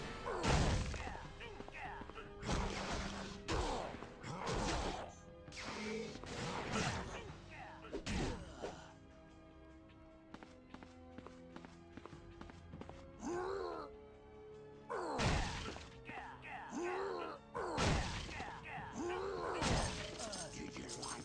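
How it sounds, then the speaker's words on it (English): Jugs and jars smashing in X-Men Legends 2, a series of loud crashing breaks in irregular clusters with game groans and character voices between them. "Break the jug, please."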